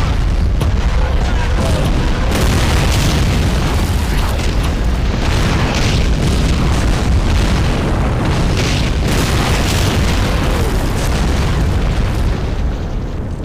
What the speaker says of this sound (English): they appear to have decided to shoot point blank at the wall ahead of them